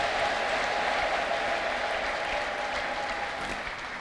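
A church congregation applauds and ululates in praise of the Lord, a steady wash of clapping and crowd noise at moderate distance with no clear talk over it.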